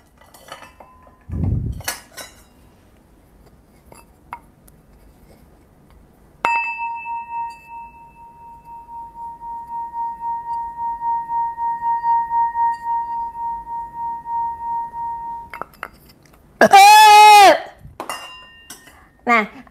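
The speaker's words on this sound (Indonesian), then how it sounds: "kita akan bermain singing bowl" A singing bowl is struck once and rings with a clear, sustained metallic tone that pulses with a slow wavering beat, lasting about nine seconds before stopping. A dull thump comes before it and a short harsh burst follows.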